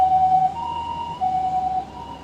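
An ambulance siren on a Tokyo street sounds steady, alternating two-tone wails, moderately loud and a little distant, over a low hum of street traffic.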